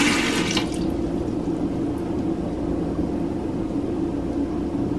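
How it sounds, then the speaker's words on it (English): Water trickles steadily through a Membrane Solutions U3P water filter, a constant close, soft wash of flowing and dripping water with no talk. "I hear it dripping in the bottom."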